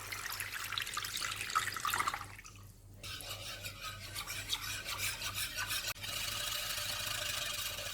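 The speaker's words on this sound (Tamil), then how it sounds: "உடனே கிளறணும் கைவிடாமல்." Continuous stirring and scraping of thick black rice halwa made with milk and rice flour in a pan, a steady rasping rub with a brief dip partway through, close and moderately quiet with no talking.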